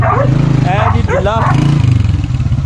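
A motorcycle engine idles close by with a steady low rumble, running under loud nearby voices.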